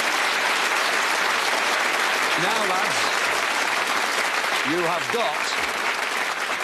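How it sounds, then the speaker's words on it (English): A game-show studio audience claps in sustained, dense applause. A voice talks over it throughout. "I think that's worth a round of applause."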